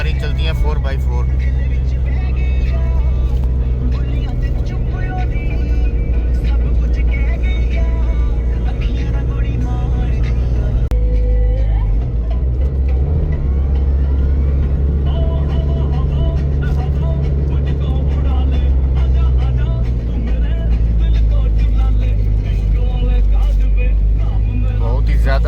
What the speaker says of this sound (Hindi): और यहाँ पे गाड़ी चलती है 4x4।